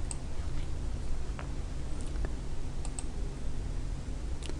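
Computer mouse clicks while working in Inventor CAD software: several quiet, sharp clicks scattered through a low steady room hum, with no talking.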